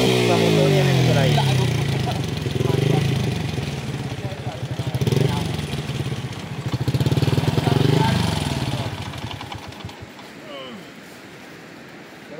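A motorcycle engine runs loudly up close, its rumble rising and falling with throttle before easing toward idle, with voices talking over it.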